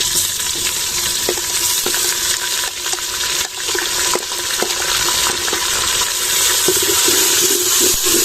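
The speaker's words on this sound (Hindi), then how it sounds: "लहसुन को थोड़ा पकाने के बाद हम इसमें प्याज शामिल करेंगे" Onions and garlic frying in butter in a village kitchen pan for sarson ka saag give off a steady, close, dense sizzle with occasional stirring scrapes and clicks, and no voices.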